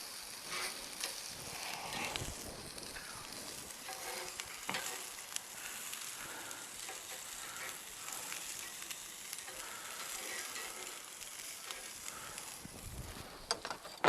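Burgers and eggs sizzle on a hot backyard grill plate, a dense continuous crackling hiss with small pops throughout, loud and close with no voices.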